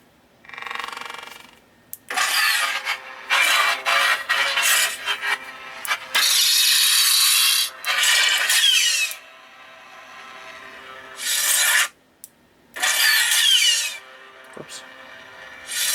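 Plastic and metal parts of a removable modular lightsaber chassis rub and rasp as the chassis is twisted and wiggled out of the hilt, coming in several close, loud bursts with short pauses between them.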